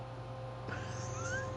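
A cat meows in Minecraft, a short rising call over a steady hum of game background sound.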